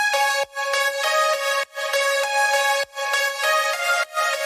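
Several layered synthesizer leads, including an airy sawtooth lead, playing together as one bright, buzzing chord line that breaks into short rhythmic phrases with brief silent gaps, loud and alone.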